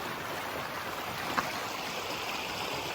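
Mission Creek rushing along a Pacific Crest Trail section at a fork in the river, a steady broadband wash of flowing water heard fairly close with no speech over it.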